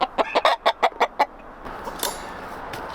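Chickens in a henhouse on a large mountain property give a quick run of about eight sharp, rhythmic clucks, then settle into quiet background noise with a few faint calls.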